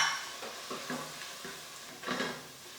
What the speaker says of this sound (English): adding our 3 tablespoons of flour. Stir that in well